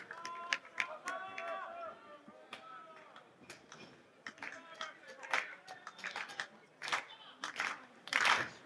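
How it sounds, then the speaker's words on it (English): A wrestling crowd at a women's championship match claps in scattered, uneven bursts that grow busier toward the end, with a commentator talking over it throughout. "Crowd starting to come up."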